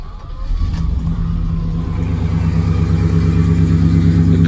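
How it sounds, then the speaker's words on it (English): A warmed-up 1971 Chrysler New Yorker fires up and settles into a loud, deep, steady idle close by, its rumble swelling slightly as it revs without any talk over it. "So I'll start the car up for you."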